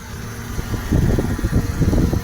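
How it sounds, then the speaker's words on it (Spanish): A Chevrolet Spark GT with a cracked cylinder head running hot, its radiator cooling fan kicking on midway and adding a steady whirring rush over the idling engine. "Y allí nos arrancó el ventilador."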